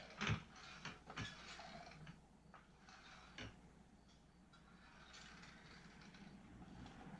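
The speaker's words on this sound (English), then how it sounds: "by pumping it, we're bleeding the system, and it's taking all the fluid" A Harbor Freight hydraulic jack is pumped while its system is bled during a fluid change, producing quiet mechanical clicks and ratcheting knocks over a low steady background, with a few sharper clanks early on.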